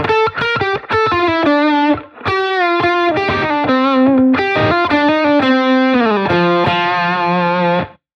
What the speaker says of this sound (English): Let's have a listen to a lead tone